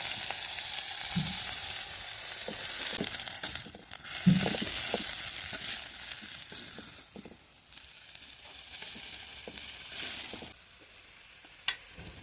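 Red amaranth greens with crushed peanut sizzle and fry in a pan, a steady crackling hiss with occasional stirring clinks and scrapes, close and moderately loud with no talking.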